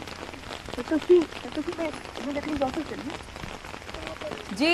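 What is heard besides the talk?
heavy rain falling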